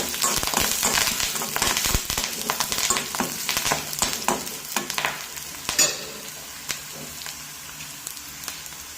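Curry leaves stirred and fried in a hot pan, a dense crackling sizzle with rapid spattering pops and scraping stirs, loud and close throughout, easing slightly toward the end, no speech.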